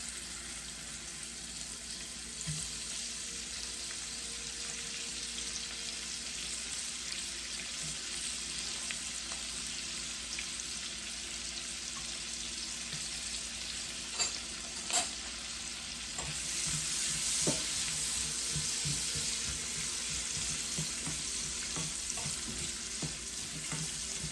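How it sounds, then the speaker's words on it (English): Onions fry in butter and olive oil in a pot for Jamaican-style stew okra, giving a steady close sizzle with scattered stirring clicks that grow louder and busier toward the end. "I have some butter and olive oil in here. I'm gonna add onions."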